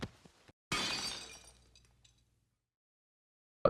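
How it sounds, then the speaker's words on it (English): Glass teacup shattering in the visual novel CHAOS;CHILD: one sudden loud smash with a bright scatter of breaking shards that rings out and fades over about a second, preceded by faint ticks and followed by silence. "Glass breaking? Suddenly there's a loud crash!"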